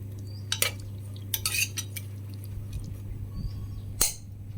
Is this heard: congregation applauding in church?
no